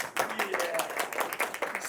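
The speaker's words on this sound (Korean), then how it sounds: "박수" Students clap in a lecture hall, a short burst of several hands that rises and falls over about two seconds, fairly close and mixed with voices.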